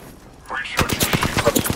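Gunfire in the video game Apex Legends, starting after a quiet moment as a quick string of sharp, evenly spaced shots, loud and close, with a voice speaking briefly at the start.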